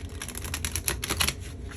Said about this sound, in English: let me go ahead and get these shuffled up for you